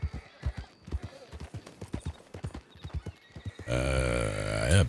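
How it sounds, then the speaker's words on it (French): A horse on a street at night, hooves clip-clopping in a steady rhythm close by, then a loud whinny rings out near the end. "C'est le cheval."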